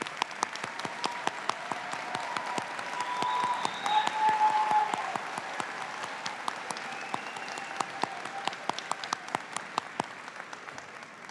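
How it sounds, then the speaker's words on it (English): Crowd applause for parents and guardians at the Winters Mill High School 2026 graduation, a continuous wash of clapping from a large audience in a hall with distinct claps scattered through, steady and moderately distant. "Give your parents and guardians a huge round of applause"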